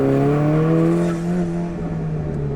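A loud stock Alfa Romeo 4C engine roars steadily at high revs, its pitch rising slightly and then easing off, close to the listener with no talking.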